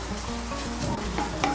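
Whole cinnamon, cardamom and cloves crackle and sizzle in hot oil with ginger, a steady close frying hiss with light stirring scrapes throughout, no voices.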